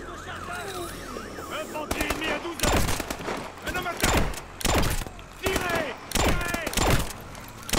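Gunfire in the video game Call of Duty Advanced Warfare: repeated loud bursts of automatic fire in clusters, mixed with sci-fi effects and speech from game characters.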